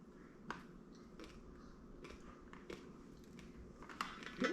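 Crisp, crunchy bites of a chocolate marshmallow treat come in short irregular bursts, close and fairly quiet, with no talking.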